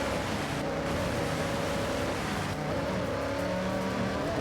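A drift car driven by AI in Forza, its engine holding a loud, steady rasping roar with shifting revs and tire noise throughout.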